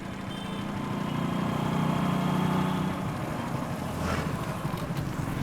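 A motorbike engine idles nearby, a steady low rumble that swells slightly in the middle and then settles.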